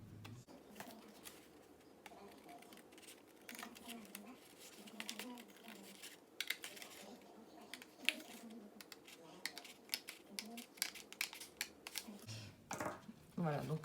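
Scissors snip through a paper envelope with bellowed sides in a series of close, crisp cuts and small clicks, with light handling noise between snips.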